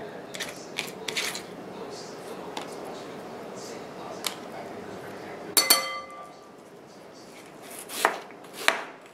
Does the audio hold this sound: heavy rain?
no